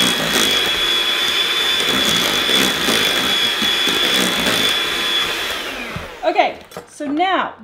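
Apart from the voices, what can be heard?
mixing garlic into homemade mashed potatoes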